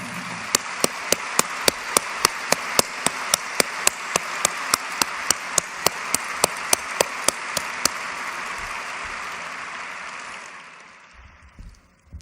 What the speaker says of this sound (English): I'd love to have you give them a real well-deserved round of applause